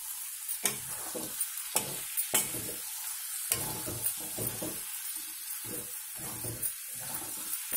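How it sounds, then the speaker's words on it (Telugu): A spatula works through egg and vegetable fry in a pan, giving repeated close scraping strokes in a steady rhythm over a continuous sizzle, with no voices. "ఒక 5 నిమిషాలు ఇలాగా మనం కలుపుకుందాం"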